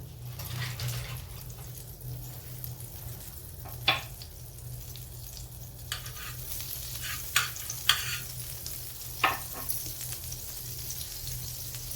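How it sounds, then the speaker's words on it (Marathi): Butter melting and sizzling on a hot tava griddle over a gas flame, a low steady frying hiss broken by a few sharp clicks and scrapes, with no voices. "आता गॅस पेटवून तवा ठेवलेला आहे, आपण तव्यावर आता बटर टाकलं"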